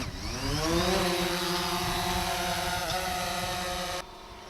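A drone flies over a field of grassland to take aerial photos, its steady high-pitched propeller whine holding close and loud for about four seconds before dropping away abruptly, with no talk.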